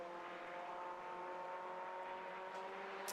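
A race car at the Brands Hatch Indy circuit is heard as a steady, distant engine whine that holds a constant pitch for a few seconds, faint and droning.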